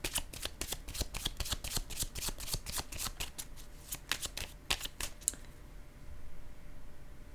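Playing cards riffled and bridged close by, a long run of rapid crisp flutters ending in a quieter settle as a card is drawn, with no talk.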